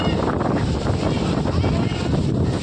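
Strong wind roars steadily and loudly across the microphone at Mantralayam, a dense buffeting rush with no break.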